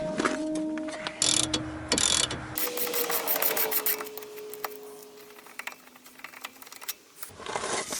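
A wrench works loose T25 screws from a dust shield on a MINI Cooper S front suspension, giving close, rapid ratcheting clicks in short bursts separated by pauses, with faint metallic taps and no speech.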